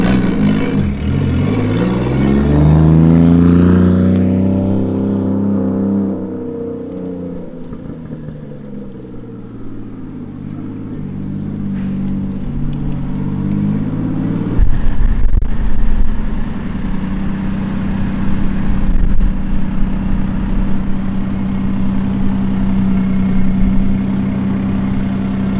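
A Toyota Chaser with a 1JZ engine revs and drives, its engine tone rising and falling before settling into a steady, loud rumble as it maneuvers to park nearby.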